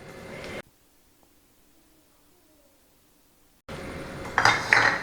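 A spoon clatters against a pot while beef curry is mixed with curry leaves, Kerala style; short metallic scraping bursts open and close the clip with near-silence between.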